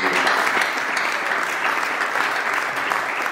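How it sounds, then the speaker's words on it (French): A church congregation applauds to acclaim the Lord, with sustained, dense clapping from a crowd holding steady and loud throughout the brief moment. "Est-ce qu'on peut acclamer le Seigneur?"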